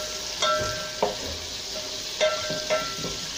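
Ginger garlic paste sizzling in hot oil for chicken nihari, with a spoon stirring and scraping the pan in a few distinct strokes over a steady fry hiss, close and clear with no talking.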